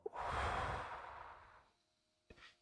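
One long, audible breath, a close exhale that fades out over a second or so, followed by a short sharp intake near the end, in a quiet room.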